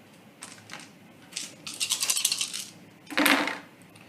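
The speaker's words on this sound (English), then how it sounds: "So they are rolling 3 plus 2 additional power dice." Several power dice tumbling in a board game, rattling and clattering on a hard surface in a few short bursts, close and fairly quiet, with no voices.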